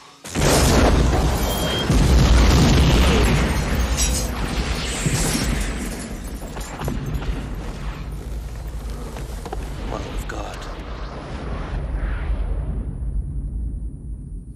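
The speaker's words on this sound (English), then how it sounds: "Impact with high order detonation." Big explosion from a 1994 action film: a deep, loud high-order detonation boom that hits hard and then rolls into a long, slowly fading rumble with debris, alone without voices.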